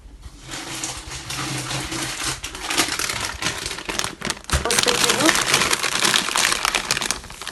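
Crinkling plastic of an opened 900-gram bag of frozen vareniki, crackling steadily and close up, growing louder and busier midway as the bag is handled.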